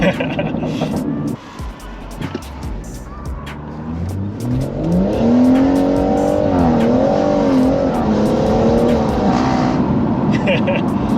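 A track-spec BMW M140i with a straight exhaust revs hard, its engine note climbing and wavering into a loud, raspy howl that holds high before easing, while people talk underneath.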